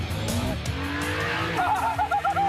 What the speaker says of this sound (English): The Dodge Hornet RT, the totally torqued out crossover